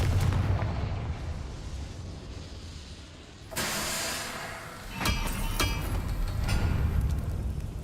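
A Confringo fire spell from Hogwarts Legacy goes off as a sudden loud blast, followed by a sustained roaring rumble and a few sharp crackling bursts over steady game ambience.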